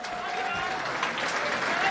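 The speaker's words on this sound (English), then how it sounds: "Another round of applause for George Pradle." Audience applause at an awards dinner, a steady wash of clapping from a room of diners that carries evenly for a couple of seconds, with some voices mixed in.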